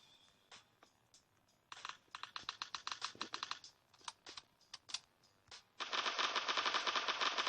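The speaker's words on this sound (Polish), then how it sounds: "Dźwięki takich broni są właśnie fajne" Rapid bursts of gunfire in the game Block City Wars, sharp clicky shots in quick volleys, ending in a loud continuous burst of automatic fire.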